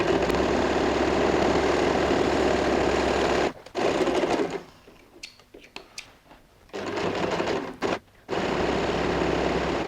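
A sewing machine stitches fabric along a curve for a handmade bag, giving a loud, steady close-up whir that stops briefly twice, with only faint quick bursts in between, before running steadily again.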